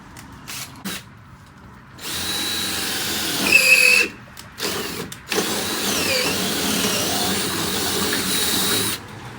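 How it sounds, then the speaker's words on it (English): A power drill bores bolt holes through an aluminum jon boat transom in several bursts, whining loudly up close, with short pauses between runs and a long sustained final pass. "so that I can drill through the holes that I've already done through the aluminum boat"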